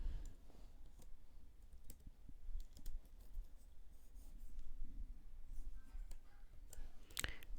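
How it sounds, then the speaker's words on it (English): Someone typing data on a computer keyboard during an office data-processing mail merge task, irregular close key clicks with brief pauses and a louder tap near the end, no speech. "Then just keep on typing your data."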